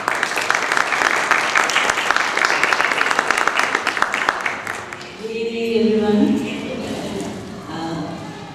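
An audience at a one-day women's medical awareness seminar breaks into loud applause for about five seconds, then the clapping gives way to someone speaking.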